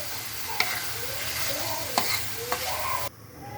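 Hilsa fish sautéing in a pan, a dense, close sizzle with a few sharp utensil taps against the pan; the frying noise drops away abruptly near the end.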